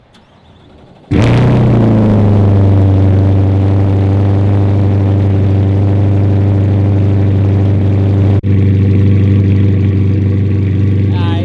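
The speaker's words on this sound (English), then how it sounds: "Cold start at idle." A Chevrolet Corvette C8 sports car with an MBRP catback exhaust cold-starts, cranking and catching, then settles into a steady, loud, rumbling idle with a deep low hum, close by, with a brief dip in the middle.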